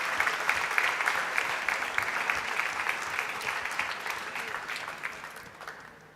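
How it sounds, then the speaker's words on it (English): Warm applause for students at a school valedictory function, a crowd clapping loudly in a hall and gradually tapering off toward the end. "A big round of applause to all the students."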